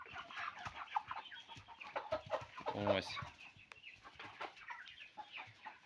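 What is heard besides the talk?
chickens clucking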